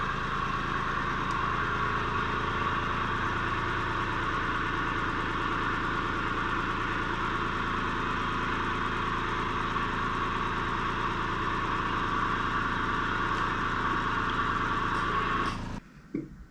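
A tractor engine idles steadily on a timber frame shed build site, a loud continuous rumble that holds even for about fifteen seconds before cutting off abruptly near the end.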